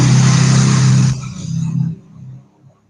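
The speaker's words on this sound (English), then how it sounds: "Sorry, we have a motorbike passing by." A motorbike engine drones loudly close by, its pitch dropping as it passes and then fades into the distance over a few seconds.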